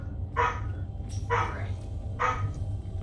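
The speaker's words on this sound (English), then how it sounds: "Lincoln, will you take care of the dog, please?" A dog in Mass Effect 3 barks three times, short sharp yaps about a second apart, moderately close over a low ambient hum and faint background sound.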